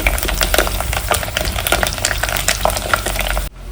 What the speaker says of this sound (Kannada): ಈಗ ಕಡಲೆಬೇಳೆ ಮತ್ತು ಉದ್ದಿನಬೇಳೆ ಚೆನ್ನಾಗಿ ಸ್ವಲ್ಪ ಫ್ರೈ ಆಗಲಿ